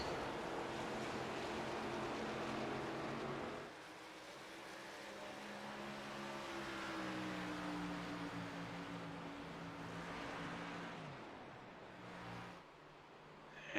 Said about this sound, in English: I am definitely hearing some engines cutting off